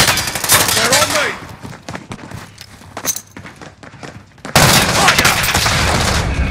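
Bursts of gunfire in Call of Duty: Modern Warfare, a rapid spray of sharp shots that thins into scattered single cracks, then a loud dense roar of fire resumes near the end, with faint game voices mixed in.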